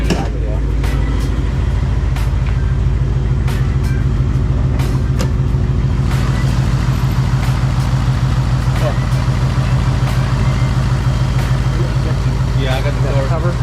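A rebuilt 2018 Mustang GT Premium idles at first startup with a loud, steady low rumble close by, while people talk over it and occasional clicks and knocks sound around it.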